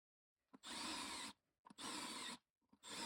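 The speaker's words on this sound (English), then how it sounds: "Let's take a closer look at the drilling process." A power drill bores into the lug nut holes of an aluminum wheel from a 1997 Toyota RAV4, three loud grinding bursts close up, each under a second long and separated by short pauses with small clicks.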